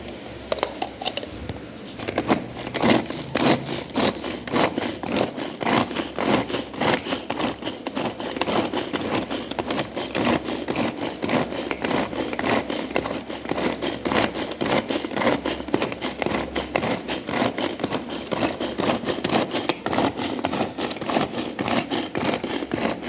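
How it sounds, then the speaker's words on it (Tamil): An electric grinder grinds egg paniyaram ingredients, whirring and rattling continuously after a brief start, its motor buzzing steadily as food is chopped inside, loud and close. "இப்போ நம்ம ஒரு கிரைண்டரில் போட்டு நல்லா அரைச்சிக்கலாம்."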